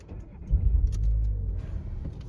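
Car engine rising in a low rumbling rev as a learner driver lets out the clutch and gives gas, a swelling throaty drone that holds for about a second before easing off, close by.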